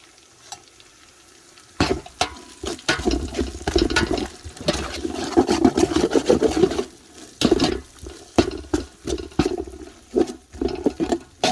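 Beef marinated in yogurt tipped into a pot for Sri Lankan beef biryani, landing with a wet slop and then stirred and scraped in broken, clattering bursts that run close and loud throughout, with no talk.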